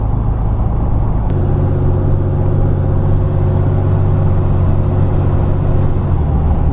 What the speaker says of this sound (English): Moving through the gears, great.